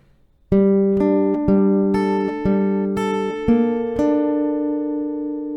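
Acoustic guitar picking a riff slowly on open and fretted strings, about eight clear single notes in an even, unhurried sequence, close and alone, each ringing into the next.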